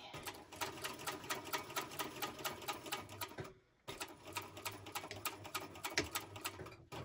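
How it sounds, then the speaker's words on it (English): A sewing machine stitches a bucket bag with a rapid, steady mechanical chatter, pausing briefly midway before running on at the same even pace, fairly close and clear. "lift my presser foot, put it under, take a couple of stitches till we know for sure that we're on it"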